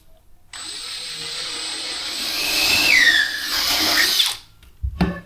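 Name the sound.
power drill drilling bi-fold pivot door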